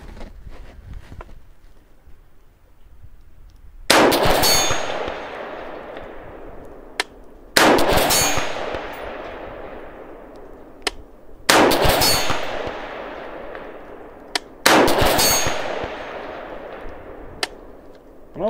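Rifle rounds strike a full 18-inch steel IPSC target at 500 yards, four sharp distant clangs spaced a few seconds apart, each ringing and decaying slowly, with faint gunshot pops between.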